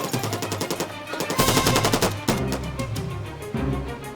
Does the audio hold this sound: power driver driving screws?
no